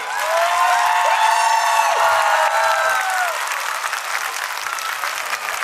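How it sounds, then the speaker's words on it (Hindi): An audience at a pre-primary school annual day applauds children on stage: loud, dense clapping with whoops and cheers rising over it early on, then steady applause that eases slightly toward the end. "एक बार सब बच्चे स्टेज पे जोर से ताली बजा दीजिए"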